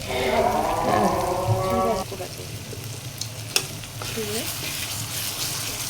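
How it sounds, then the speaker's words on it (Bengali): Spice masala for beef liver bhuna fries and is stirred in oil, sizzling loudly at first and then dropping to a quieter steady fry, with a sharp utensil knock midway and a faint voice in the background. "মশলাটা আমরা এমনভাবে কষিয়ে নেব যত সময় তেল না ওঠা পর্যন্ত"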